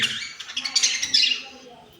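Caged budgerigars chirp in quick, high twittering bursts, fairly close, fading toward the end.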